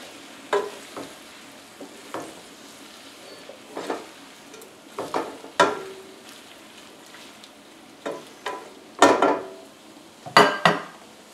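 Garlic cloves stirred into sizzling onions in a pan for snapping turtle soup, with light sizzling under a series of distinct spoon clinks and scrapes against the pan, close and irregular.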